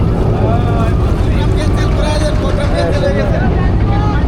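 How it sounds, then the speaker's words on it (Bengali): A trawler's engine drones loud and steady on the Lalakhal river in Sylhet, a continuous close rumble mixed with wind buffeting and faint background voices. "যে এখান থেকে ট্রলারটা ঘুরে যাচ্ছে"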